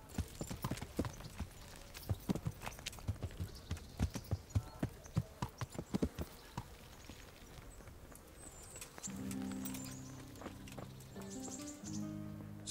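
Horse hooves clip-clopping at a brisk, regular pace in the medieval game Kingdom Come Deliverance, close and distinct, then fading as a sustained musical tone swells in over the last few seconds.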